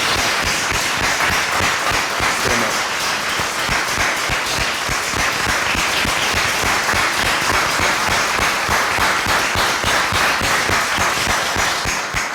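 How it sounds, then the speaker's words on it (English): A large audience gives sustained, dense applause at a School of Divinity event, with steady loud clapping filling the whole stretch and no talk over it. "Y'all please give her a round of applause and your prayers."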